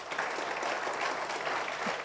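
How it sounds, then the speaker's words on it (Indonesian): A church congregation applauds during a sermon, steady dense clapping from many hands at moderate volume, continuous for the full two seconds. "Tepuk tangan bagi Tuhan."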